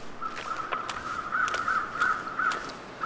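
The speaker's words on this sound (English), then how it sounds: "If you see a group of birds circling around like that, there is usually something dead underneath them" Several crows caw repeatedly in short rasping calls, fairly near and clear over a steady windy ambience, gathered above a deer carcass in the survival video game The Long Dark; no one speaks.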